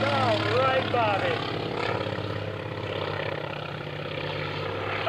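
Propeller engine drone of an aerobatic airplane flying at an airshow, sponsored by Tulsa Aircraft Engines, a steady loud roar sustained throughout with a faint whine sweeping early on.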